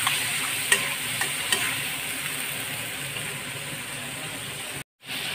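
Black pepper paneer mixture with salt and spices being stirred in a hot pan, a steady sizzle with a few sharp spoon scrapes near the start, running alone until a brief silent gap near the end.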